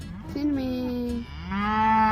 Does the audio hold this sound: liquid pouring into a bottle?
no